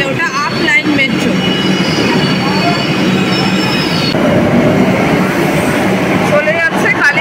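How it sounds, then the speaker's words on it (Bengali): A Kolkata Blue Line metro train pulls out of the station toward Dakshineswar, a loud rumble with wheel screech and rail clatter that fills the whole stretch, while people talk nearby. "এখন উল্টো দিকে দক্ষিণেশ্বরের দিকে চলে যাচ্ছে মেট্রোটা, মানে ওটা আপ লাইন মেট্রো।"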